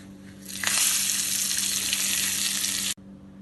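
Hot oil tempering of cumin seeds, dried chili and curry leaves with a pinch of chili powder and asafoetida, poured into dal for dal tadka: a loud steady sizzle that flares up suddenly and cuts off sharply.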